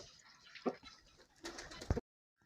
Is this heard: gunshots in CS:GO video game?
no